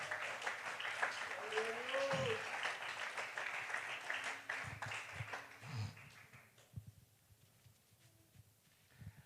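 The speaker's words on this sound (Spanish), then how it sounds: "Démosle un aplauso al Señor" Church congregation applause during a Spanish sermon, a moderate clapping wash mixed with voices and a few vocal exclamations, tapering off after about six seconds into quieter murmuring and scattered sounds.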